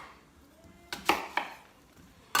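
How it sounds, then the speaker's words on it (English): A knife slicing an onion in half on a cutting board for a vegan soul food meal, giving a few sharp, separate chops and thuds close up, with quiet gaps between them. "And then we're gonna cut the onion in half."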